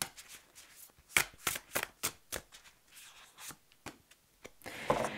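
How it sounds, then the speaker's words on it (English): Tarot cards shuffled and dealt out in a quiet room, a run of crisp papery flicks and slaps coming in irregular bursts, close and fairly loud, with a denser riffle near the end. "Let me just put another card out here."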